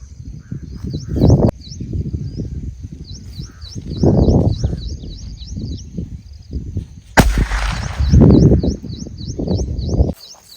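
Nattu vedi country firecrackers from Valangaiman fireworks burst in a series of loud, sharp booms outdoors, separated by pauses and heavy rumbling, while birds chirp repeatedly in the background.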